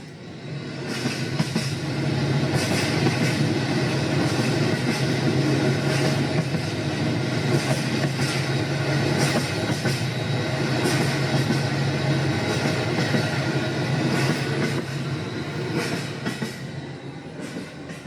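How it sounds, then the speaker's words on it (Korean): A train runs steadily on rails for the whole stretch, its continuous loud rumble carrying rhythmic clicks of the wheels and occasional higher squeals, with no voices over it. "광주 고등 보통학교에 다니는 박준채는 나주 집에서 매일 기차를 타고 학교에 갔어요."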